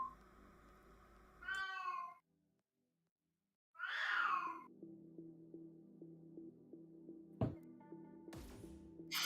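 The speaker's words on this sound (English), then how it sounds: "It's difficult to tell. It's a cat." A cat meows twice in a quiet room, each call clear and close, separated by a short silence, followed by low background hum and a few sharp clicks.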